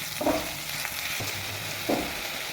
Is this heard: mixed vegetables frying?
yes